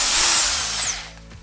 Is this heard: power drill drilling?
yes